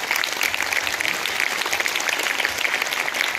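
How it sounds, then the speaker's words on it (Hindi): An audience at a school prize distribution claps loudly and steadily for a student's result. The applause is thick and even and lasts the whole moment, with no talk over it. "जोरदार ताली इसके लिए भी आप बजाएं।"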